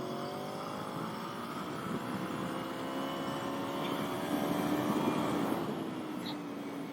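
A 2013 Aprilia Tuono V4 at part throttle on a race track, a steady, whirring engine drone that slowly swells and fades without full-throttle bursts, heard close and continuously.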